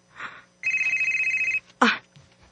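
A telephone rings once with a steady electronic trill at close range, followed by a short clatter, with faint background sounds around it.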